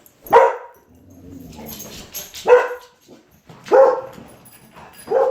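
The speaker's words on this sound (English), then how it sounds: "Adorable dogs." Dogs bark in a few sharp, loud bursts spaced about a second apart, with softer whimpering and low rustling between them and no talking.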